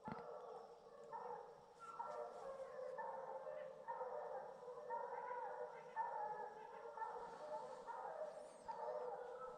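A pack of bear-hunting hounds baying and bawling in the distance along a ridge, voices overlapping continuously across the whole stretch, steady and far off.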